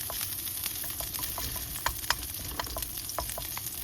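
Garlic and onion sizzle steadily in hot oil for a beef and ampalaya stir fry, a constant close frying hiss with a few brief crackles and spatters and no voices.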